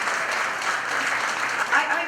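Steady applause from a crowd at an outdoor groundbreaking press conference in Astoria, a broad wash of clapping that holds at an even level throughout with a slight swell near the end.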